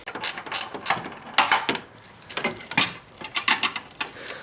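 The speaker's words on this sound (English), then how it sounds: "I'm going to loosen these side mounting bolts that I tightened earlier to keep it in position" A ratchet clicks in quick bursts while loosening the side mounting bolts of an ABS control module on a 1999 Pontiac Grand Prix, close and fairly quiet, with short pauses between the runs of clicks.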